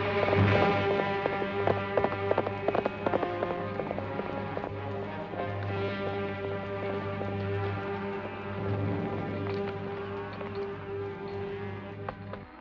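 Horse hooves clip-clop at a steady trot, one horse with a loose shoe, over a sustained musical backdrop, the hoofbeats clearest at the start and fading into the music.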